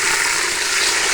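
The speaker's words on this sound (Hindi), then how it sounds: "थोड़ा सा पानी शामिल करके इसको तड़का लगा लेंगे।" Garlic ginger paste sizzling in a pan after a splash of water for tempering, a steady bright hiss and crackle filling the whole moment, close and loud with no talk.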